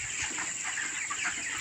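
Chickens clucking at a chicken farm of about 3000 birds, a dense continuous flock chorus of overlapping clucks with a steady high hiss of background noise.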